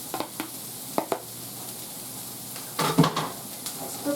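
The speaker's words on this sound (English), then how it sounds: "Now I'm going to add my meat so it can cook up a little bit." Meat tipped into a hot pan on the stovetop, giving scattered clinks and short sizzling bursts followed by a louder frying hiss as it settles and gets moved around, close and fairly quiet.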